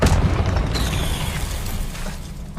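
A spell explosion in a Harry Potter video game played on PS5: a loud, close boom with a rumbling, crackling burst that fades out over a couple of seconds.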